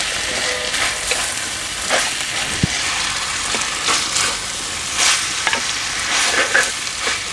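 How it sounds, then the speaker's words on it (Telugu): Onions frying in a pan with ginger garlic paste for a hotel-style poori kurma, a steady sizzle broken by scraping stirs of the spoon, near and continuous with no talking. "చూసారా, ఉల్లిపాయలు అనేవి ఈ విధంగా వేగాలన్నమాట"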